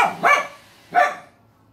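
Two sharp, close dog barks about a second apart, with quiet between and no talk, heard at a nursery.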